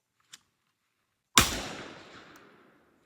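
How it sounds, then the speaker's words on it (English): A shotgun fired with cheaper ammunition at a thrown clay target outdoors, one sharp loud blast with a booming tail that fades over about a second, preceded by a faint brief click. "Okay, first shot with the cheaper ammunition."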